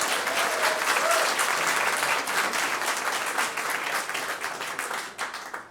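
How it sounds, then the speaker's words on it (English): Audience applause at the National Indigenous Arts Awards ceremony, a full, steady wash of many hands clapping that stays strong for about five seconds before easing off. "Give them a round of applause."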